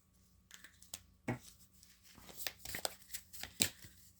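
Tarot cards being shuffled by hand, a series of soft, quiet riffles and flicks with brief slaps, growing a little busier toward the end, with no talk.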